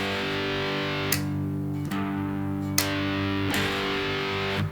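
An electric guitar played through its second pickup at full volume gives a thick, gritty distorted tone, sustained notes with sharp pick attacks about every second, loud and alone.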